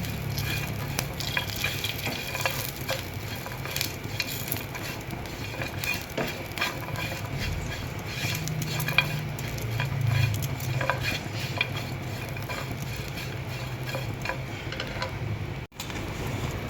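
Grated coconut roasting in a pan gives a continuous close sizzle with frequent scraping, stirring clicks and utensil taps throughout, with no voices.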